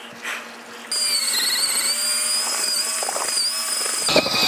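A cordless mixer drill stirs mortar with water, a steady high motor whine with a low hum under it that runs for several seconds before slowing and cutting off.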